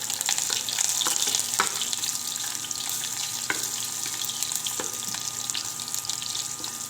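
Steady, close hiss of oil sautéing in a pan for beef pinapaitan, with salt added, crackling continuously with scattered sharp pops throughout, and no voices.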